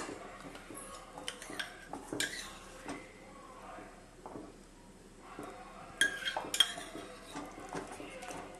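A spoon stirs a thick corn flour halwa mixture in a pan, giving soft irregular scrapes and light metallic clinks at close range, fairly quiet, with brief louder knocks against the pan's side.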